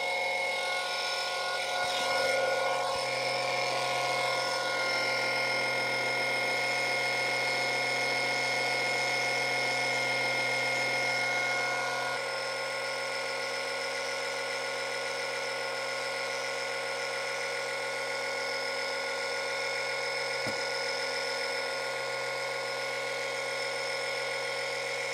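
Steady electric motor whine with a constant buzzing drone as a battery-powered pump pushes oil into the gearbox of a Renault Mégane 2 1.9 dCi; the tone shifts slightly lower partway through and runs on uninterrupted, close and loud.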